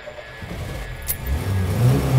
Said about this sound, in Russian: Смотрите, как она заводится.